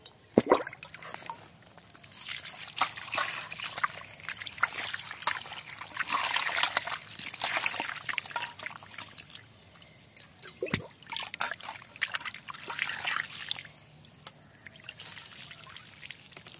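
Water trickles and pours in uneven bursts while chicken leg pieces are washed outdoors near a village wood-fired stove, with sloshing and dribbling that rises and falls, fairly faint and close, with no speech.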